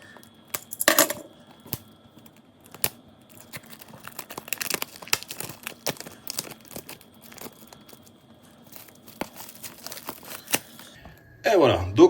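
A boxed Apocalypto film edition is unwrapped by hand. Plastic crinkles and snaps, with sharp clicks and rustling up close and a louder scrape at the end.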